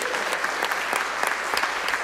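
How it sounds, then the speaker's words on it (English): A packed city council chamber breaks into steady, dense clapping for a high school boys basketball championship team, sustained and even throughout with no speech. "Let's give them a round of applause."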